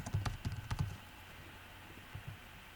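Quick burst of keystrokes on a computer keyboard as a name is entered, several close clicks in the first second, then near silence broken by two more light taps.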